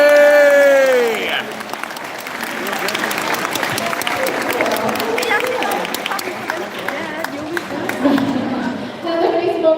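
An audience at a live seal and sea lion show breaks into loud, sustained applause after a brief whistle-like tone, with cheering and crowd chatter mixed into the clapping until it tapers near the end.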